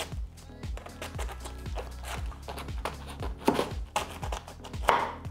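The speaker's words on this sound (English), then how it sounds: "We remove the wilted outer leaves and we cut them into wedges." A knife chops repeatedly through Hispi cabbage on a board while it is cut into wedges, a steady run of close, sharp thuds with a few louder strikes near the end.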